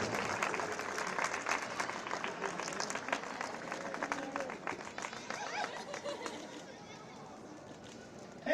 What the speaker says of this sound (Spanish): Ese último aplauso.